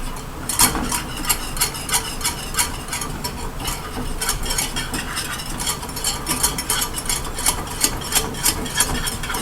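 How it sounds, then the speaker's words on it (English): A spoon stirs chocolate powder into syrup for a brownie sundae, giving steady rhythmic scraping and clinking against the bowl, close and fairly loud, with a low hum running underneath and no talk. "So let's stir that in. And you want to stir it until it looks all syrupy like."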